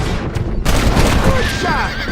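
A gunshot rings out in a Red Dead Redemption frontier fight, a sharp crack amid a loud, busy mix of gunfire, a neighing horse and brief speech.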